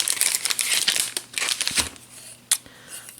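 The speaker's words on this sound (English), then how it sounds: "Let me just start with unwrapping here so we can see what's here." A small box holding four coasters is unwrapped, its wrapper crinkling and crackling in bursts for about three seconds, close and fairly loud, with one sharp snap near the end.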